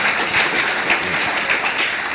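Audience clapping in a lecture or talk setting, a dense patter of many hands, moderately loud and steady, with no voices over it.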